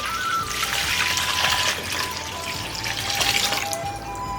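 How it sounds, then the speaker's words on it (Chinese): Clean water poured into a pot set up for white-braising beef tripe with star anise, bay leaf and cinnamon, a steady trickling splash running without pause and without talk. "搁这加点清水"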